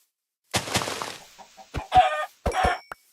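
Minecraft chickens give a few sharp, close clucks in separate short bursts with silent gaps between, loud and alone without talk.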